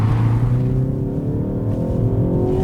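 A 2025 Ford Focus ST hot hatch engine revs hard for a couple of seconds, a close, steady throaty drone with rising pitch and no speech.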